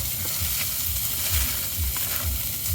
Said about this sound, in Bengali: এখন আমরা চাপা শুটকির জন্য পেঁয়াজ রসুনগুলোকে আমরা আবার ভেজে নিব।